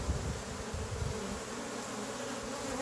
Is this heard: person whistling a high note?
no